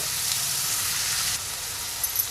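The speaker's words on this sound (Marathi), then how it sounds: "कांदा छान असा परतून घेऊया" Chopped onion and curry leaves sauté in a pan after cumin has been roasted, giving a steady, close frying sizzle throughout with faint stirring scrapes and no talking.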